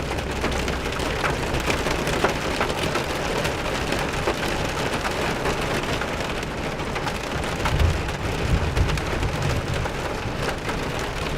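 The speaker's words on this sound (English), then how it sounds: "Back into the hail again." Hail and heavy rain drum hard and continuously on a storm-chasing vehicle, a dense, close clatter of ice and water striking the roof and glass with low wind rumble beneath and no voices.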